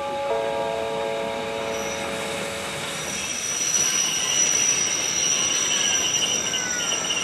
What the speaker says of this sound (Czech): Nepřibližujte se ke koleji, na kterou vyjíždí vlak.